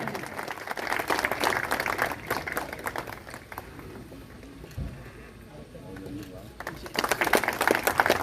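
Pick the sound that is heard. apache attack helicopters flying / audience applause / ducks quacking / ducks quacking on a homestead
audience applause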